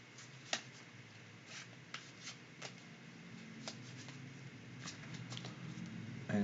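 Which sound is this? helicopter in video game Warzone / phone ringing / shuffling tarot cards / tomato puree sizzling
shuffling tarot cards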